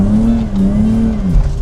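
A BMW E46 drift car with a hidden hydraulic handbrake, its engine droning loud and close with wavering pitch as tires scrub through a handbrake turn.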